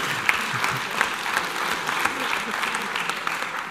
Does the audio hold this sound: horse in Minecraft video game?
no